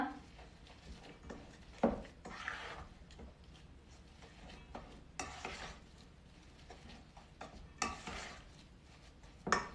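Melted butter being stirred into crushed Speculoos biscuit crumbs for a no-bake cheesecake base, heard as soft, uneven scraping and mixing strokes close up, with a few sharper taps of the utensil against the bowl.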